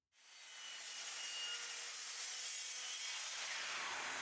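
A miter saw cuts small pieces of wood in a workshop, with a loud, steady whining rip that starts abruptly and holds for several seconds, the pitch sagging slightly near the end.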